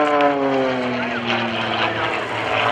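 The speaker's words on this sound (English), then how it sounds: "With a half implement turn around, brings the airplane back down." Aerobatic propeller plane at the 2014 Manassas Airshow, flown by Scott Francis through a half turnaround back down, its engine droning loud and steady with harmonic pitch shifts as it maneuvers, under faint crowd or announcer sound.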